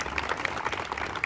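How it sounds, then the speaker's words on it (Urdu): Audience applauding at a career counseling event for intermediate students in rural Muzaffargarh, dense steady clapping from a crowd, fairly loud and close, with no speech over it. "سب کھڑے ہو کے ان کے لیے تالیاں بجائیں"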